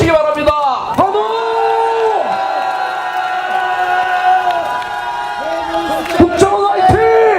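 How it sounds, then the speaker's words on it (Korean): A crowd at an outdoor rally supporting the National Intelligence Service cheers and shouts loudly and close, voices rising and falling over about seven seconds, with sharp bursts of yelling at the start and end. "그러면 국정원을 향해서 한번 환호를 해주시기 바랍니다. 환호!"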